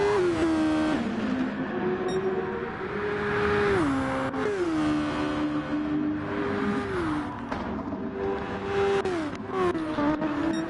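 Formula race cars in a racing video game at the French GP howl loudly as their engines rise through the gears, with repeated upshifts and a sudden drop under braking. Commentary runs faintly beneath.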